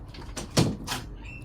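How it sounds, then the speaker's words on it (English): A door swings shut nearby with a single soft thud, framed by faint room sounds and light shuffling. "can you shut the door on your way out?"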